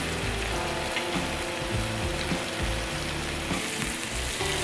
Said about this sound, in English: Next, I'm gonna add a little butter.